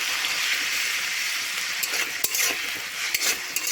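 Ginger garlic paste sizzles steadily in hot oil in a pan for a fish head and cabbage dish, with a constant bright hiss and a few sharp clicks of a spoon stirring, no voices.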